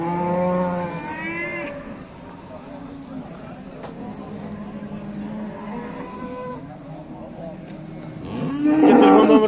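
An Angus cow lowing at a livestock market, long deep moos at the start and again louder near the end, with people talking in the background between calls.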